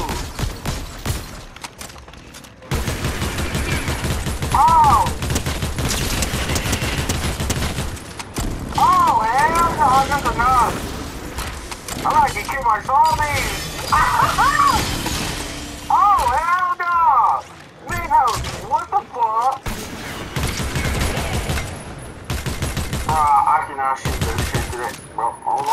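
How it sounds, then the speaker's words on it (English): Pistol gunfire in the video game Pumpkin Tycoon, repeated loud shots in bursts over a long exchange, mixed with voices talking and music. "Pistol battle down here."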